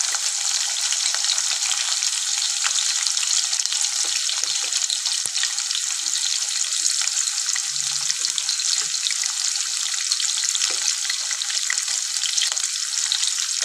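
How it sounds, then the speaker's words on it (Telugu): Onions and green chillies frying in hot spices, a loud, continuous close sizzle with faint crackles throughout and no talk. "ఇప్పుడు ఇది మంచిగా గోల్డెన్ ఫ్రై వచ్చేదాకా మంచిగా మనము ఫ్రై చేసుకోవాలి."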